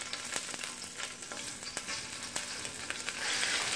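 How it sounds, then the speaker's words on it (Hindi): Garlic ginger paste sizzles in hot oil in a pan, a dense, close crackling hiss with scattered sharp pops and a brief stir, growing slightly louder toward the end. "ऑयल ऐड कर देने के बाद अब इसमें मैं ये लहसुन अदरक का पेस्ट ऐड कर रही हूँ।"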